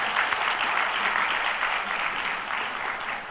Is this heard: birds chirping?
no